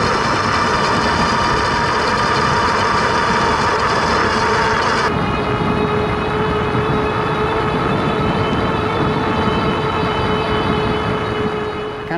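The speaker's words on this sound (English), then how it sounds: "I do have a clip of this motor going down the road versus a regular Bafang 750 motor going down the road" Ariel Rider X-Class 52v e-bike motor going down the road, a steady loud whine with a high tonal hum; the upper whine drops away partway through, leaving a lower steady tone over road rumble.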